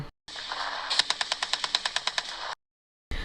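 A rapid burst of about a dozen evenly spaced gunshots, a sound effect, loud and close, over a noisy rumble, cut off abruptly.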